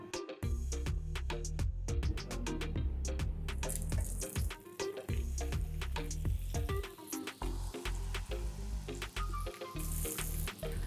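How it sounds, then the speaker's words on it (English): Soya, sweet potato and black bean patties pan frying in refined soybean oil, a dense, close, continuous sizzle and crackle with a few brief clatters, no voices. "The next step is to pan fry these, and for this I'm going to use Nutrela refined soybean oil"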